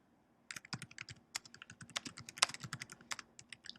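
Rapid, irregular clicking of a computer keyboard being typed on up close, with bursts of keystrokes and brief pauses and no voices.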